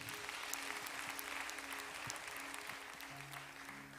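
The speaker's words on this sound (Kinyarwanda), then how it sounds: "Komera Imana amashyi." A church congregation claps in steady, sustained applause at a gathering for women and girls, a dense wash of hands heard from the room without speech.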